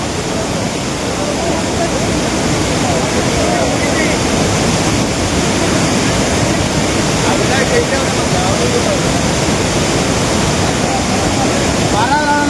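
The Arabail waterfall roars with heavy water flow, a loud, dense and unbroken rush that fills the whole clip with no let-up.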